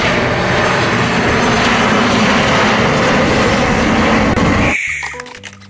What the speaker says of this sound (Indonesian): Lihat, ini ada pesawat terbang.